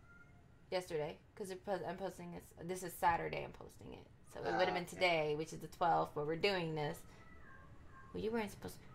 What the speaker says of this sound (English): I'm so sorry if you guys hear meowing.